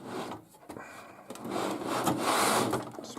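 A Corsair CX550 power supply unit is slid out of a PC case, giving a close scraping, rubbing drag of metal against metal that builds and grinds unevenly for a few seconds.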